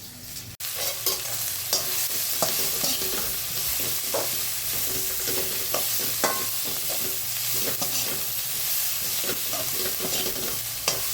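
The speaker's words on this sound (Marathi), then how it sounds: "अशा प्रकारे आपण हे सगळं मिक्सर फ्राय करून घेऊया." Onion and brinjal stir-fry in a pan with a steady loud sizzle, punctuated by repeated scraping and clinking stirs of a spoon throughout, with no voice.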